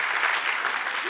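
A congregation claps during a church sermon, a short steady burst of crowd applause with a voice faintly under it.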